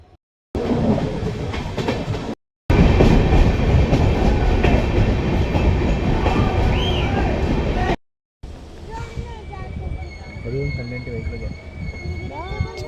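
A passenger train on the line near Sakleshpur rumbles and rattles loudly along the rails, a dense clattering roar between short gaps, with people talking and shouting over it.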